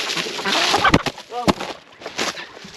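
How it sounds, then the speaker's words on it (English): Chickens clucking and squawking close by, with bursts of wing flapping and a few sharp calls amid general barnyard commotion. "We got chickens flying up over everywhere"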